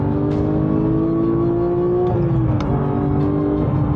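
A 2022 Porsche 911 GT3 Touring with a six-speed manual revs loud and close, a steady high engine whine holding pitch before dropping and climbing again as the gears shift.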